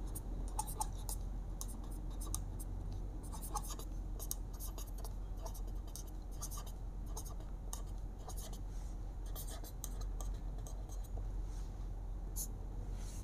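A pen writes out a Class 7 math solution on paper: continuous close scratching strokes with short pauses between marks, quiet and with no talking.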